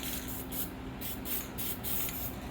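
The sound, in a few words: spray paint can spraying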